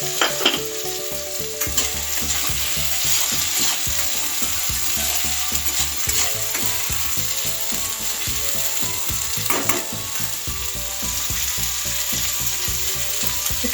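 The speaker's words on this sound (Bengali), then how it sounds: "ওল আর আলুটা ভাজা ভাজা হয়ে এসছে" Steady crackling sizzle of vegetables frying in hot oil, with dense rattling pops running continuously throughout.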